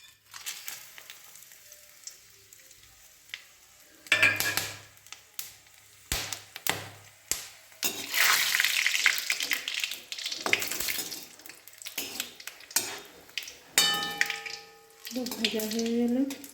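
Tempering spices hit hot ghee in a pan and crackle and sizzle in bursts, with quieter stirring and kitchen clatter between them; a brief whistle-like tone rises near the end.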